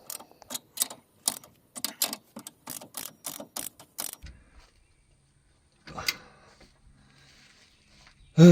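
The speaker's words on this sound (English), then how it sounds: "Now it's time to tighten these nuts down to 80 foot-pounds." A hand wrench tightens leaf spring nuts to 80 foot-pounds on a Toyota Tacoma fitted with an add-a-leaf. Quick, close bursts of ratcheting clicks come in a steady run, then stop, followed by a few scattered mechanical clacks.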